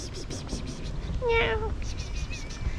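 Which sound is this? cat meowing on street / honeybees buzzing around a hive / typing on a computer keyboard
cat meowing on street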